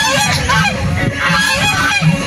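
Turkeys and chickens at an outdoor adventure base in Dharwad give a continuous chorus of loud, honking, gobbling calls. The calls overlap and keep up without a break, with no talk over them.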